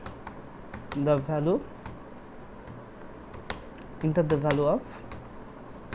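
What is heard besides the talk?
typing on a computer keyboard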